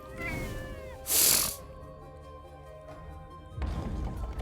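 A cat in a card video game meows and yowls repeatedly over soft game background music, with a sharp bright burst partway through and a thud toward the end.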